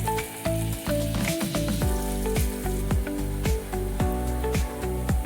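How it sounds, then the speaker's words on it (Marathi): Onions sizzle in hot oil for masala rice, browning with a bright continuous crackle and a run of rhythmic scraping stir strokes, close up with no talking. "कांदा लाल होईपर्यंत भाजून घेऊया।"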